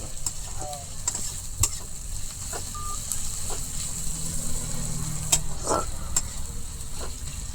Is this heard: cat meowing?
no